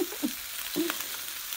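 Mie goreng noodles frying in a pan, a steady broadband sizzle throughout with a few brief stirring scrapes and clinks, close and moderately loud with no talk.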